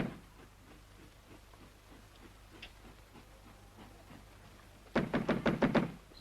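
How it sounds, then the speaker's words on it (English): A quick burst of about six sharp knocks on a door, loud and close, following several seconds of quiet room tone with faint scattered taps. "It's no use knocking."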